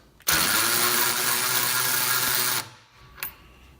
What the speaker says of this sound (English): We use the drill to drive the supercharger